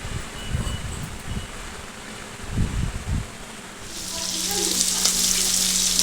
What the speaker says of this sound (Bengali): আর তারপরে একটু গ্যাসটা বাড়িয়ে দিয়ে এটাকে একটু দুপাশটা ভাজা ভাজা করে নেবে